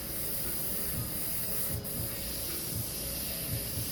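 An airbrush sprays paint for a second layer of colour on an art piece, giving a steady, close airy hiss that runs unbroken with a brief dip midway.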